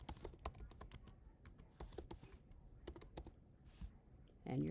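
Credentials and a password are typed on a computer keyboard as quick, quiet, irregular bursts of clicking keystrokes, with a brief voice at the very end.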